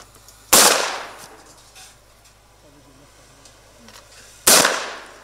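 Two loud, sharp rifle shots crack about four seconds apart at a 2019 Norwegian national championship in figure-target shooting, each with a quick decaying tail, separated by quiet range ambience.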